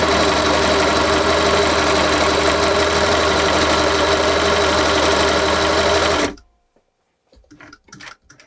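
A Singer 533 sewing machine runs steadily for about six seconds, a close, even mechanical whir while it tests a stitch, then stops abruptly, leaving a few faint handling clicks.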